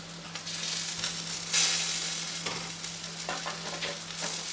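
Chicken cheese paratha frying in ghee on a flat pan, a soft steady sizzle with a brief louder hiss and a few light scraping touches.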